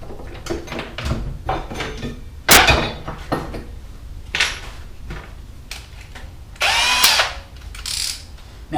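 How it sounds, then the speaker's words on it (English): A power drill fitted with a 5mm bit bores into a hydroponic garden tower pipe, with short bursts of whirring and grinding separated by clunks and handling noise, close and fairly loud. "I'm going to get my drill"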